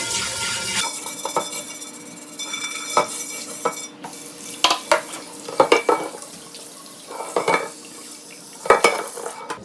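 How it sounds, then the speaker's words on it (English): Stiff bristle brush scrubbing leftover curry lentil food out of a rinsed cooking pan, a steady wet scratching with louder bursts of scrubbing strokes and occasional clinks, close up, with no talking. "with a stiff bristle brush, just scrub out any of the extra food"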